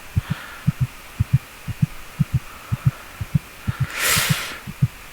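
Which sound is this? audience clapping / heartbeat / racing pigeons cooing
heartbeat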